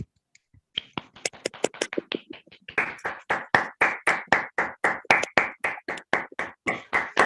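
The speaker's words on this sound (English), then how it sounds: "I think we should go on with the applause" Hands clap in an online club meeting, starting with a few scattered claps that build into a steady, fairly loud run of regular claps, close and with no talk over it.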